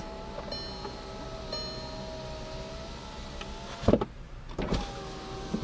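A Mk1 VW Tiguan power window motor hums steadily in a quiet interior, ending with a couple of soft clunks as the glass stops.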